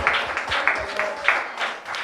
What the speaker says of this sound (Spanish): Si tú entendiste eso, dale un aplauso al Señor.